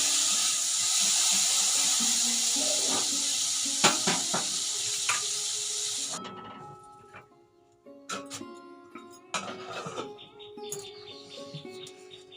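A curry of tomato, turmeric and chili powder sizzles loudly in a pan, then the hiss drops away as water goes in, followed by scattered stirring scrapes and clinks.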